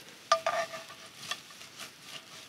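Brush scrubbing a spatula during cleaning of a cast iron skillet at camp, with soft bristly scraping strokes and a couple of light metallic clinks at the start, quiet and close.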